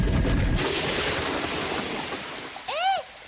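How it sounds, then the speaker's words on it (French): Cartoon water gushes from a toilet and a sink in a Ben and Holly's Little Kingdom scene, a broad rushing surge that fades slightly before a short rising whistle-like effect near the end. "Il y a une fontaine qui jaillit des toilettes et une cascade qui jaillit du lavabo"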